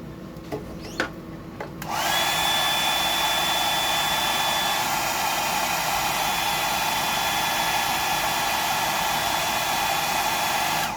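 A hair dryer starts up and runs steadily and loud, drying a freshly painted fishing lure with a ghost-pattern finish, its broadband whoosh carrying a faint high whine after a few quiet handling noises.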